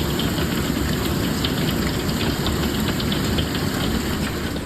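Hail and heavy rain fall during a Phoenix-area monsoon storm, making a dense, constant roar with scattered sharp ticks of impacts throughout, loud and close with no voices.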